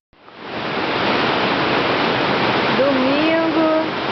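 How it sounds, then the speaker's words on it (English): A waterfall at Rio Claro, Brazil, rushes in a loud, dense, continuous roar that swells in and holds steady, with a faint voice-like tone rising over it near the end. "The sound of rushing water filled the air"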